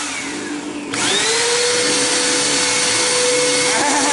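A household vacuum cleaner switches on with a sudden surge, then drones steadily and loudly with a rising whine that settles into a constant hum, close by with no talking.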